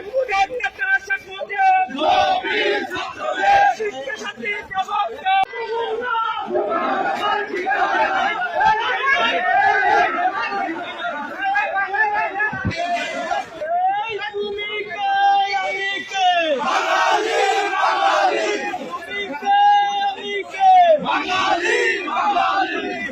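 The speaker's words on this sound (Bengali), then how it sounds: "সে জয় বাংলা স্লোগান দিচ্ছে" A crowd of men chanting the Joy Bangla political slogan in Bangladesh, loud rhythmic call-and-response shouting with a lead voice and group replies, repeated in waves over background chatter.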